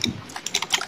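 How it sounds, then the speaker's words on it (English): Quick, light clicks of computer keyboard typing during a Minecraft gaming session sound close and uneven in a short burst, with no talk. "I was just making typing noises."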